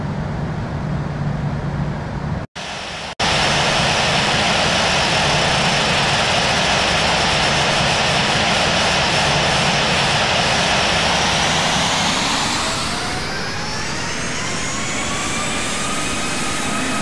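Aircraft on final approach landing on runway 02 left, a loud, close, continuous engine roar with a rising whine that sweeps downward near the end as it passes, no voices.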